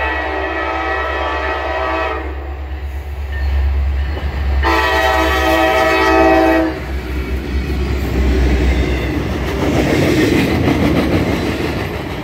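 A freight train passes loud and close, running as symbol 23K, with several long sustained horn blasts over the steady rumble and clatter of the rail cars.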